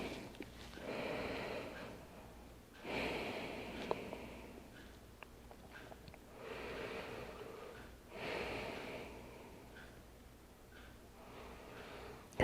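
Slow, quiet breaths while resting forehead-down on a yoga mat in child's pose, a few long soft inhale and exhale swells repeating at a relaxed pace, faint and close.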